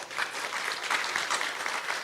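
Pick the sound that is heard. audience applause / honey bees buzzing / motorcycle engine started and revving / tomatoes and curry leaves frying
audience applause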